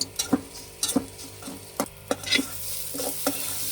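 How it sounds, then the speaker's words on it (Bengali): Onion and green chili paste sizzles in a pan while a spoon stirs it, giving sharp repeated scraping knocks every second or so over a steady low frying hiss. "এখন ভাজবো ভালো করে সবকিছু।"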